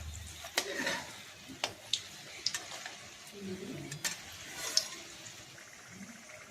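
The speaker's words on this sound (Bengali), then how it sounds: "এই দেখুন আস্তে আস্তে ধিমি আঁচে ভাজতে হবে এগুলো।" Potato rolls frying slowly in oil over low heat, a steady soft sizzle with occasional stirring clicks and scrapes against the pan, close and continuous without speech.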